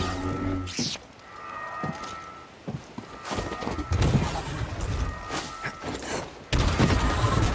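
Blaster fire crackles through a Star Wars Jedi: Fallen Order battle between Cal Kestis and stormtroopers, with a string of sharp, loud shots scattered over a busy game mix of thuds and effects.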